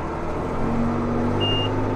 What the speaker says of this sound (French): le petit bip que vous venez d'entendre